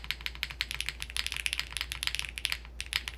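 Steady typing on a soft-sounding PT750 mechanical keyboard, a rapid run of crisp, close clacks with an even rhythm and no voices.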